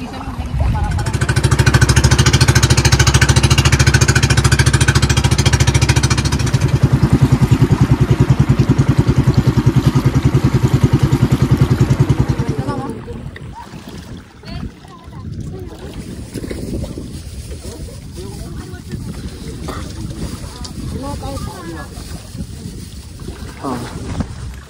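Boat engine towing swimmers near Coron, Palawan, loud and steady with heavy wind buffeting for about thirteen seconds, then quieter water and engine rumble under occasional voices.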